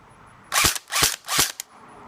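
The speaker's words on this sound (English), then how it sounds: "This is what it sounds like on semi." An airsoft Black Ops M4 rifle fires on semi-auto with a high-cap magazine: three loud, sharp shots in steady succession, then a brief fourth snap, heard close over a quiet background.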